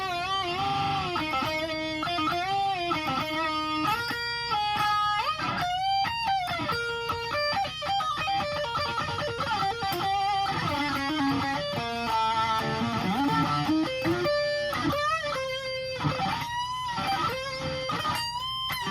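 Electric guitar outro solo from a song, a fast melodic lead of bending, sustained notes and quick runs played loud and continuous over a full rock band backing.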